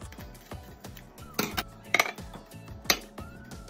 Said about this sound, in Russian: Переставляем их в кастрюлю, либо в глубокую сковороду.